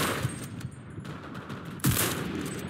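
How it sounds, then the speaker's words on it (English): Gunfire in the World War II shooter Enlisted during a Guadalcanal coast battle, a steady wash of distant bursts with a louder, nearer crack of shots near the end. "Shoot the gun!"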